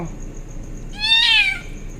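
A kitten stuck in a trash bin gives a single short, plaintive meow close by. Quiet low background noise comes before and after it.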